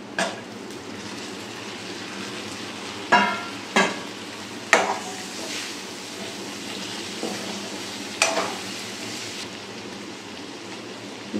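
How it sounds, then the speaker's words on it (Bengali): Pre-fried capsicum and prawns go into a pan of sizzling onion and garlic for a prawn capsicum curry. A steady frying hiss runs underneath, broken by several sharp clatters and scrapes of a spatula stirring against the pan. "এবার আগে থাকতে ভেজে রাখা ক্যাপসিকাম আর প্রন ভাজাটা দিয়ে দিচ্ছি।"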